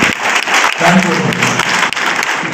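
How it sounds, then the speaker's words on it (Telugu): Audience clapping at a public meeting in Bodhan town, a dense, steady burst of applause from a crowd close by that fills the whole moment. "ఈ సమావేశంగా మన అందరి ద్వారా చప్పట్ల ద్వారా ధన్యవాదాలు."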